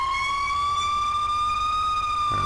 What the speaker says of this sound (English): We're probably waking up everybody with our siren right now.